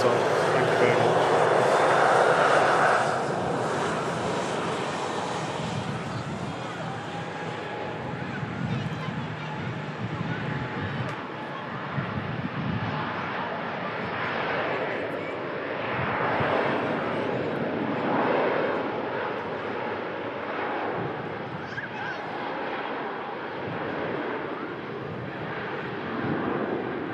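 A fixed-wing airplane's engines roar and slowly fade, loud at first then a lingering distant rumble, heard at an airport spotting spot while someone talks over it throughout.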